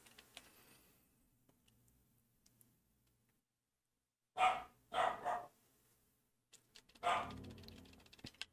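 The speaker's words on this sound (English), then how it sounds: "can you hear my dog? He's going through a phase of barking a lot." A pet dog barks in short bursts, a single yap followed by a quick double bark and then one more, fairly close and loud against near silence, with faint keyboard clicks early on.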